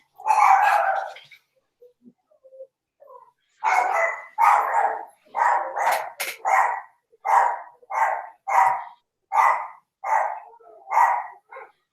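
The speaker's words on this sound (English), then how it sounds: "the dog's going." A dog barks repeatedly at close range, one burst at the start and then a steady run of about ten evenly spaced loud barks, with quiet gaps between them and no talking.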